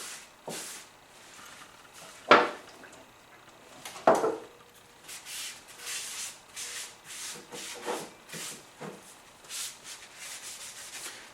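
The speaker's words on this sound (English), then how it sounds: "we're going to clean this with some denatured alcohol, get some of the dust off" A cloth wipes across cedar wood with denatured alcohol in a series of soft, close rubbing strokes, with a couple of sharper scuffs early on, and no talking.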